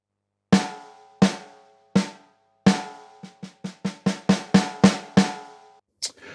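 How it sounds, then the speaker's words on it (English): Snare pad on a Yamaha DTX electronic drum kit with a Bop Groove kit loaded, struck alone in four evenly spaced hits, then a quicker run of ten strikes and a final light tap, crisp and close. "at the moment the snare sounds like this"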